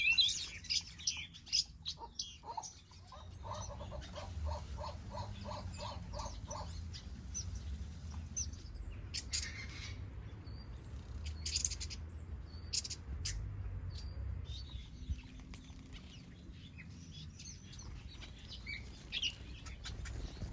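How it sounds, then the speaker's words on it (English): Softbills and finches in a large outdoor aviary chirp and call from several directions, with a quick run of repeated tweets early on and scattered sharp calls over a low steady background hum. "And now I'll just keep silent just for a moment so you can enjoy all the bird sounds."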